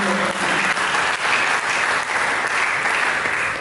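A church congregation applauds during a sermon, a dense, steady wash of many hands clapping together, fairly loud and sustained throughout with no voice on top.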